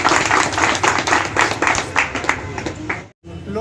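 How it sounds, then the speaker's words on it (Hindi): A crowd claps at the opening of computer equipment shops in Bihar. The applause is loud and dense with fast irregular claps and continues steadily until it cuts out abruptly near the end, then briefly returns. "इसके लिए एक बार विशेष ताली"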